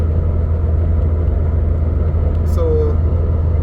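Acura RSX with a 5.3 final drive cruising at about 2005 RPM in long fifth gear, a steady low engine rumble and road drone with a voice talking over it.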